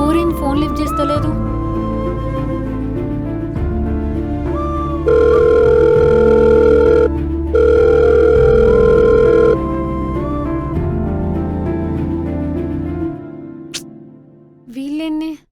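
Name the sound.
phone call ringing unanswered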